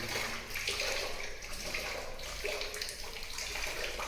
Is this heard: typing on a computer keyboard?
no